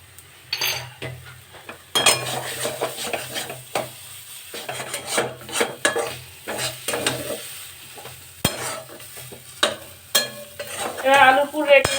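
Fried spices are stirred into a potato filling for aloo paratha in a pan. A spoon rasps and scrapes the metal in uneven bursts, with clinks, pauses and a faint sizzle underneath.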